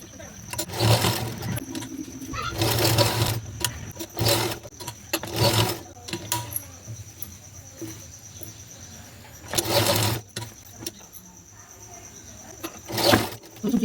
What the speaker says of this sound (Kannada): ಇಲ್ಲಿ ಕಾಜಾ ಪಟ್ಟಿನ ನಾನು ಮಿಷಿನಲ್ಲೇ ಹೊರಿತಾ ಇದ್ದೀನಿ